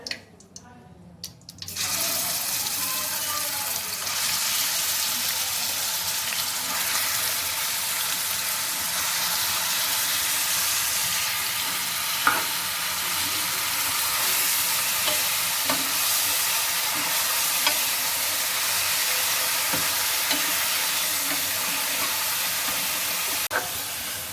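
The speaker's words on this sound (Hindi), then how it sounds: "हम इसे तब तक हिलाते रहेंगे जब तक इसका कलर ब्राउन ना हो जाए, अच्छी तरह से पक ना जाए।" Onions frying in hot oil in a pan for a bitter gourd masala, a loud steady sizzle that bursts in after a brief quiet start, with occasional stirring scrapes and clicks.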